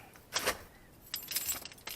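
Keys jangling in two short bursts, close and fairly clear, with a quiet pause between them.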